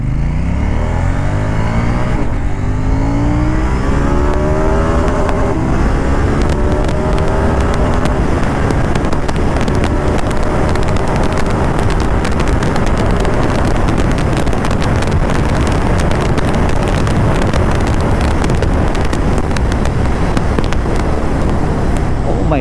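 KTM Duke 790 motorcycle in sport mode, engine warmed up, revving hard to high RPM, a loud continuous engine roar that climbs in pitch, recorded close with heavy wind buffeting over the microphone.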